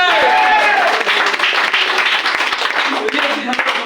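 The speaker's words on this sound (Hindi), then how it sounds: "जोरदार तालियां।" Strong applause from an audience at a DXN product talk, dense and continuous clapping at close range for about four seconds with a voice over it.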